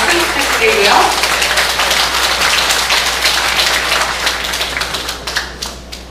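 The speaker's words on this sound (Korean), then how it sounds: "의장님께 한번 박수 부탁드리고요" An audience at a talk-show retirement-planning concert applauds the Seoul city council chairman, with sustained dense clapping that is loud at first and slowly fades out over several seconds.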